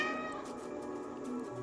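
A cat meows in the video game Stray, one drawn-out close meow over steady in-game background ambience.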